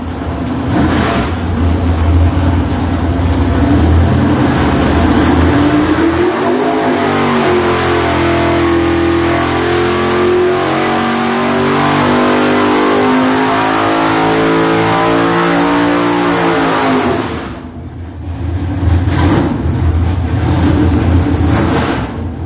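A big-block engine in a Chevy Nova roars continuously on a dyno, revving up through a long sustained pull with rising pitch, then drops off briefly before revving again.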